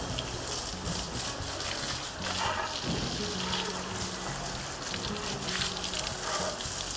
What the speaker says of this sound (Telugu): అరే ఓన్లీ వాటర్ వాష్ పోస్తే సరిపోతుంది కదా